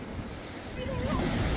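Ocean surf crashing at a summer beach resort in Samcheok, Korea, a steady close wash of breaking waves swelling louder toward the end, with wind noise buffeting the microphone.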